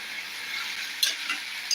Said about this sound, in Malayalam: അപ്പോൾ നമ്മൾ എല്ലാം ഇട്ടിട്ട് നന്നായിട്ട് ഇളക്കി കൊടുക്കാനേ